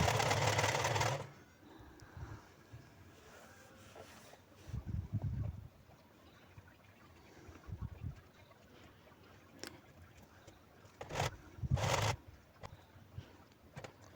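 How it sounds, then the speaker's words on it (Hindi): A sewing machine stitches fabric scraps into a soft doormat in short, separated bursts of rapid mechanical rattling, with quieter cloth handling between runs. "सेम उसी प्रोसेस से मैंने यहाँ पे भी सिलाई लगा ली"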